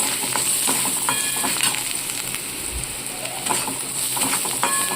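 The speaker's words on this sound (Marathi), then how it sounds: "अशा प्रकारे मी मसाले ह्याच्यामध्ये टाकत आहे तर हे पण आपल्याला चांगले असे परतून घ्यायचे आहेत" Spices sautéing in a pan for a peanut curry make a continuous sizzle, mixed with the scrape and clatter of a spoon stirring, close and fairly loud.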